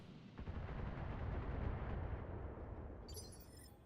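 LRM-15 missile launcher firing in BattleTech, a dense, sustained rushing roar of launches and blasts that swells from the start and holds loud for several seconds before a hissy tail.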